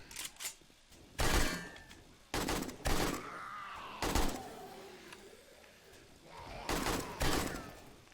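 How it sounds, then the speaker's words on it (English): Gunfire in the video game 7 Days to Die, bullets striking an armored enemy: several loud, sharp bursts of shots in clusters with metallic pings between them, and someone talking in the gaps. "You hear my bullets tinking off of his armor?"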